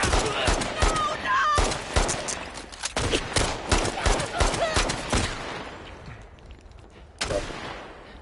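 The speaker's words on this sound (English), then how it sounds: "Who's shooting at me?" Bursts of gunfire in The Last of Us Part II, loud and sharp, with rapid volleys and single shots crowding the first five seconds, then a lull and one more loud report near the end.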